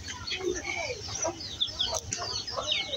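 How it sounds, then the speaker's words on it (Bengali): Village chickens cluck nearby in short, scattered bursts over a low rural background, a few calls overlapping in quick succession. "মুরগি"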